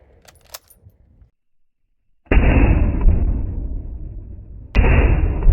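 A 1915 Carl Gustaf M96 Mauser rifle fires two loud, close shots, each a sharp blast with a ringing decay, after a quiet stretch with faint handling clicks.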